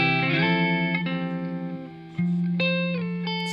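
An Alexander Pedals Syntax Error 2 in air mode adds a grainy, lo-fi reverb to a sustained guitar, its chords swelling with a slow build and lingering in a washy, slightly distorted tail.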